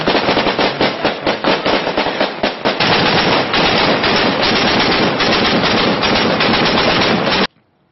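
Sustained rapid gunfire from a video game firefight at targets on the upper floors of a three-story building, loud and continuous bursts rattling on for about seven seconds before cutting off abruptly.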